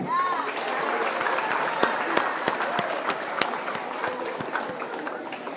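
An audience at a school student-council campaign event applauds. Dense, steady clapping continues throughout at close range, with crowd noise and some voices beneath it.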